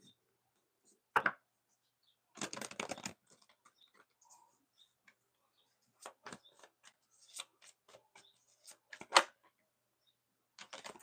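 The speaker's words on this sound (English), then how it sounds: "Let me shuffle some more." Tarot cards shuffled by hand at a live reading, heard as short crisp riffling bursts and light clicky snaps scattered irregularly through a quiet room, close and fairly soft.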